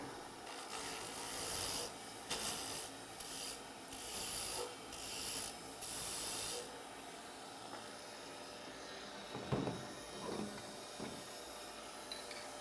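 Wood being turned round on a lathe at a woodturners' club meeting, a harsh rasping hiss of the tool cutting in bursts, then quieter rubbing with a few knocks, over constant machine hum, no talking.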